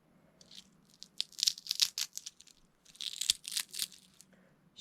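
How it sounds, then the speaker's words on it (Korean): Close, crisp crackling as Obongsan seaweed chips (gim bugak) are crumbled by hand, in two clusters of brittle snaps with short pauses between. "부스러지는 장면을 한번 보여드리려고 합니다"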